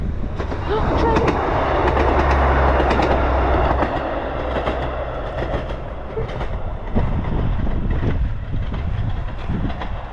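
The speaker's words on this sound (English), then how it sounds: "Oh, train!" A train rolls past on a coastal railway line, a loud close rumble with clickety-clack wheel beats, fading slightly toward the end while people speak briefly over it.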